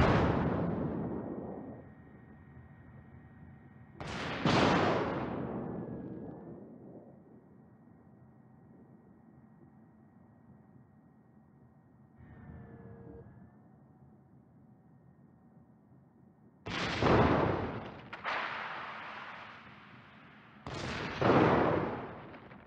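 Naval artillery salvos in World of Warships: loud booming blasts with long rumbling decays, spaced out, then a quick cluster of shots near the end, with a steady low engine drone in between.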